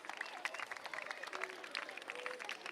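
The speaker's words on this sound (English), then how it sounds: "All right, let's give a round of applause to our electoral commission." A crowd at a school prefectorial election, 2023/24, gives a steady round of applause, with dense clapping mixed with cheering voices throughout.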